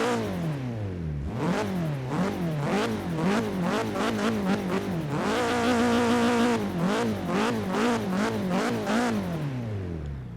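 A 1983 Volvo 242 Turbo in Forza Horizon 3 revs hard and repeatedly, its engine note climbing and dropping in steady rhythmic pulses, then holding a sustained high rev before more sharp blips, loud and close with no talk.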